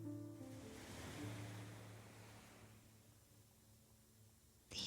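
Ocean waves wash in a soft, distant surge that swells and slowly recedes, a quiet breathy roar fading toward the end before a brief louder burst.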